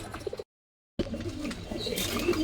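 A pigeon calls from among a collection of pigeons kept for sale, low cooing notes before and after a brief dropout, with faint chirps and background bustle, no speech.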